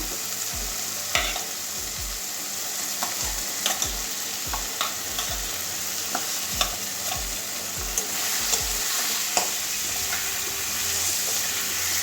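Pointed gourd, potato and carrot are stir-fried in a spice paste for a catla fish curry, with steady oil sizzle and a regular rhythm of spatula scrapes and knocks against the pan throughout.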